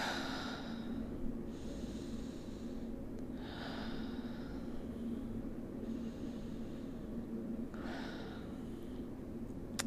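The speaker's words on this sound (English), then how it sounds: "So you breathe in." Slow, deep breathing in and out, five long airy breaths at a steady, unhurried rhythm, close and quiet over a faint background hum.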